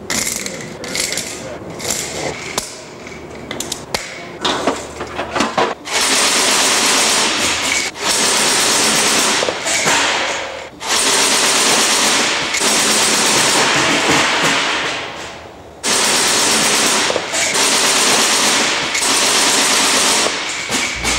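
Hughes chain gun in the Marine LAV high-rate setup firing full auto at about 500 shots per minute, sustained loud bursts of several seconds each, separated by short pauses, with some mechanical clatter and talk at the start.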